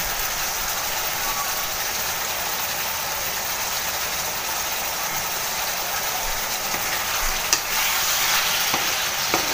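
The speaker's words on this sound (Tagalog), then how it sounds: "gigisa lang po natin guys yung karne" Meat sautéing in a pan with black pepper for pancit miki guisado, a steady broadband sizzle that holds loud and even throughout, with a few utensil clinks near the end and no talking.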